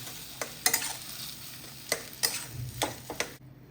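Potato filling for aloo paratha being mixed in a pan with salt and coriander: a spoon scrapes and taps in quick irregular strokes, close and fairly quiet, over a faint background hiss.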